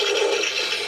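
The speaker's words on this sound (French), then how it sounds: "les toilettes où on tire la chasse, ça fait du bruit" A short burst of rushing, gurgling water from a toy dollhouse toilet flush, steady and fairly loud for under a second.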